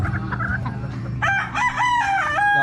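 A Boston Gold gamefowl rooster clucks briefly, then lets out a loud, close crow lasting over a second.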